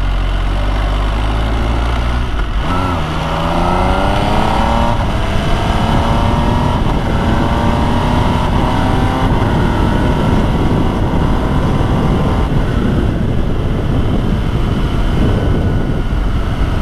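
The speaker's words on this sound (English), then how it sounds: "Let's take a little look at this motorcycle." An MV Agusta Brutale 800 motorcycle engine revs and pulls through rising gears while riding, loud and close, with whining tones that climb and then settle under steady wind and road noise.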